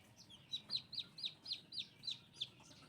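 Young gamefowl chicks peep in a steady series of about eight high, rising chirps spaced roughly a third of a second apart, fairly close and clear over a faint background hush.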